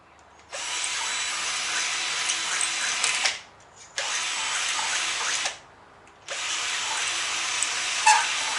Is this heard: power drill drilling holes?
yes